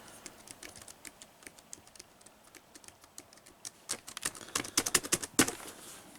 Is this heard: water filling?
no